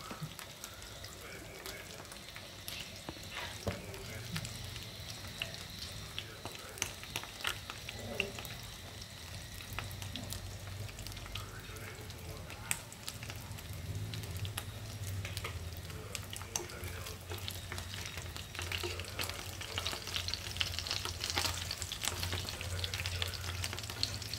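Ram chả cá fish cake rolls fry in a pan with a steady crackling sizzle and frequent sharp pops and spits. Low, faint talk comes and goes underneath.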